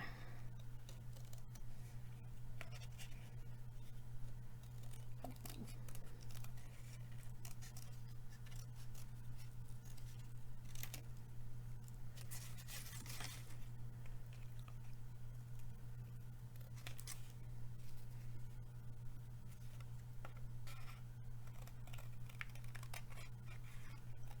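Scissors snip steadily around the edge of a paper plate, cutting out a seahorse shape for a craft, as a run of small close crisp cuts over a constant low hum.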